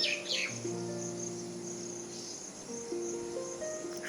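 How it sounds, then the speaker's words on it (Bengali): Birds of various kinds chirp and call at about six in the early morning at a rural holiday spot, with sustained insect buzzing beneath, fairly faint and distant with no voices. "এত সুন্দর এই যে বিভিন্ন রকমের পাখিদের কিচিরমিচির"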